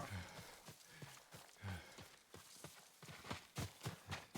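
Hollow horse hoofbeats in a video game clop in an uneven walking rhythm, close and fairly quiet, with a faint ambient backdrop.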